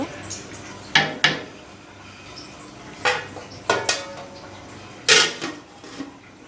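A metal pot lid being set down and handled while beef curry with potatoes cooks, giving several sharp clanks and clatters spaced across a few seconds over a low kitchen background.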